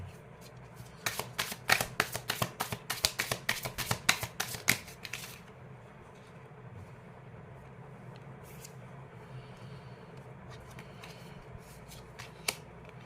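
Tarot cards are shuffled in a rapid run of crisp riffling snaps close by for several seconds, followed by quieter shuffling noises and a few soft card taps.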